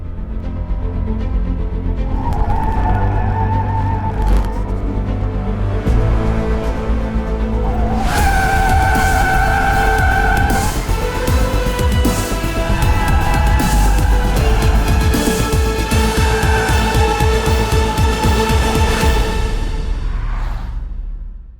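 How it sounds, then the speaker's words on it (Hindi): An 11th-generation Honda Civic RS takes corners on a track, its engine revving loudly through paddle-shifted gear changes with rising and falling pitch and bursts of tire noise, close and continuous without talk. "पैडल शिफ्टर के थ्रू इसको अभी कॉर्नरिंग के ऊपर आपको आवाज़ आ रही होगी"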